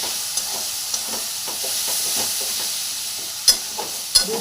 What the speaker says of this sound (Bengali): ভরে ভরে 2 চামচ আদা রসুনের পেস্ট দিয়ে দিলাম। দিয়ে এটাকে একটু নেড়ে নিয়ে